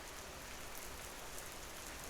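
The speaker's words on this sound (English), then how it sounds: "slowly outside, rain begins to just fucking pack down" Steady rain pours down outside as a dense, even hiss of drops striking surfaces, continuous and fairly faint, with no voices or other sounds over it.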